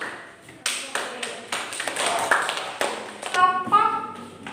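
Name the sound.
applause for the group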